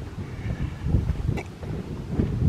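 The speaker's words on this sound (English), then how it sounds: "As I understand it, it's windy here all the time" Strong wind in Dodge City, Kansas buffets the microphone in gusty, rumbling bursts, with a faint distant whoosh and no voices.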